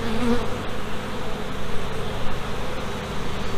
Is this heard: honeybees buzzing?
yes